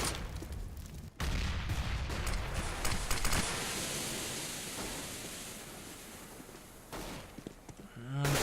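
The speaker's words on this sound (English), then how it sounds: "Zuckerberg gonna be opening fire" Gunfire rattles through a Counter-Strike match in a pro game at IEM Katowice, sharp shots and bursts over a dense wash of game noise, loudest early, then thinning before a final burst.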